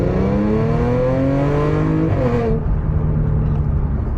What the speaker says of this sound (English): this car sounds so cool. Definitely when it comes to a stop, it's not happy